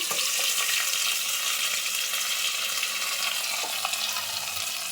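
Onions roasting in a hot pan with a pinch of asafoetida for a mixed greens pullagura, giving a steady loud sizzle with occasional stirring scrapes and no pauses.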